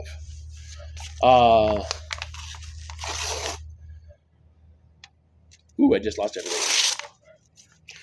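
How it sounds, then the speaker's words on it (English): Paper tears sharply twice, a short rip followed later by a longer one, with a person speaking between them. "It's the sound of the paper ripping."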